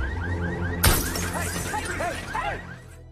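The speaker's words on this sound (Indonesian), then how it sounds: "Brian dan Vinola melihat seorang pria yang sedang menghancurkan kaca mobil." A man smashes a car window: one sharp, loud crash of shattering glass, followed by a scatter of tinkling fragments as the pieces settle.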